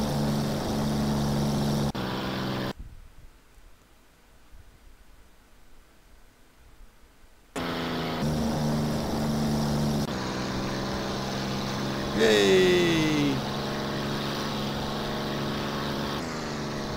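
Hawker Hurricane propeller fighter in X-Plane 11, its engine droning with a steady broadband roar that cuts out into near silence for several seconds, then resumes, with a brief rising whine partway through.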